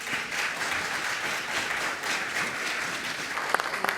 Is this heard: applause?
yes